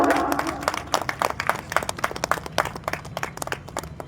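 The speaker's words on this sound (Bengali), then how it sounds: "সকলকে আরো একবার অনুরোধ করবো একটু জোরে করতালি দিয়ে আজকের এই অনুষ্ঠানে শুভ সূচনা করার জন্য" An audience at a winter clothes distribution event applauds, with dense, steady clapping from a crowd that lasts about four seconds, close and lively, with no voices over it.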